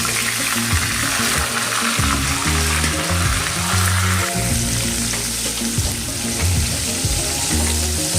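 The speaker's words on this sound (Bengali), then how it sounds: "তো এটাকেও আমি এবার ভালো করে ভেজে নেব" Vegetable stems for a bitter vegetable curry fry steadily in a pan with a continuous sizzle, joined by a strong tonal background throughout.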